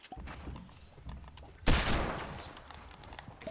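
A hand cannon fires once in the Fortnite video game, a single loud, sharp blast with a decaying tail, set against quieter in-game rustling and mechanical sounds.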